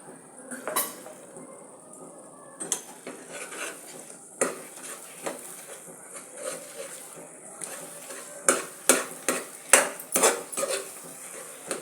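A utensil stirs and scrapes wheat flour halwa cooking in ghee in a pan, with repeated clinks and knocks against the metal over a soft sizzle, close and clear.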